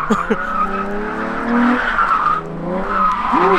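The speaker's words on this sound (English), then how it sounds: "We've got a 350 drifting back here." Tires squeal from a Nissan 350Z drifting at a drift event, producing loud, sustained skidding with wavering pitch and engine noise, heard up close and alone.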